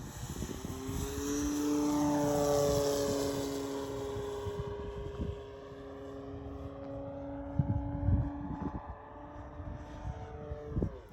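A radio-controlled Hangar 9 J-3 Cub model airplane with a 10cc engine drones overhead, its engine pitch rising and falling as it passes, steady and moderately loud with wind noise.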